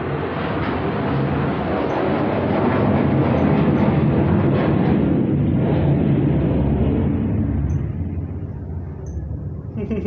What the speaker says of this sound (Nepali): भाईजान ये जहाज उड़ के जा रहे हैं